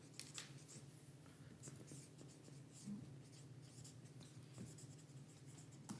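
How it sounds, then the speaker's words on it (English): A pen scratches across paper at a city commission special meeting, a steady near run of short strokes over a low room hum, with no talk. "why is Sarah typing and why are you writing?"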